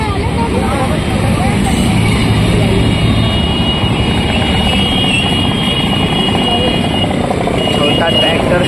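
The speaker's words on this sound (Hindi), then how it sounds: "छोटा ट्रैक्टर है" A small tractor engine runs with a steady, loud, rumbling drone throughout, and voices talk over it.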